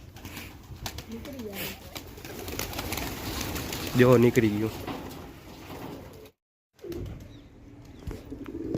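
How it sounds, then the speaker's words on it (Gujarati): A wild pigeon perched up high coos amid chatter from people nearby, with a brief louder burst midway and a short silent gap near the end. "જંગલી કબૂતર ઉપર બેઠું હે"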